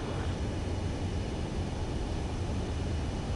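Jet aircraft on approach to a runway in the video game Ace Combat 7, a steady, even roar of engine and rushing air that stays constant throughout with no talk.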